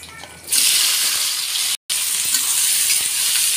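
Onion and green chili are tipped into hot oil in a pan and burst into a loud, steady sizzle and crackle that carries on continuously after a brief quieter start, with a short cut partway through.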